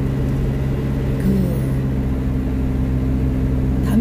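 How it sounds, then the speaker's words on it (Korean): A truck droning along the road, its steady low engine hum heard from inside the cab, even and continuous with a faint shift in tone partway through and no talking. "트럭을 운전을 잘 안 하셨을 건데, 트럭 운전할 만 합니까?"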